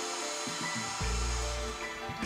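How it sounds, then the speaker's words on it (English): A hair dryer blows with a continuous loud whooshing roar over leaf-printed fabric, its motor pitch shifting slightly as it runs close by. "Dry with a hairdryer and iron to fix your print."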